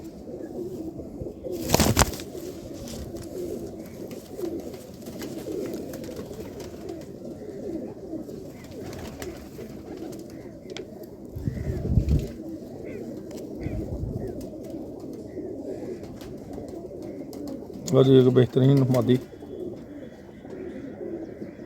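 Pigeons coo softly in a low, steady murmur, including a red female pigeon, with a couple of louder flutters and a brief spoken line near the end.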